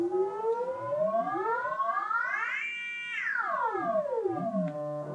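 A Kurzweil PC3 synth note is held while a slider drives its pitch up in a long smooth sweep, then back down, with layered harmonics gliding like a wailing siren over a faint noisy bed.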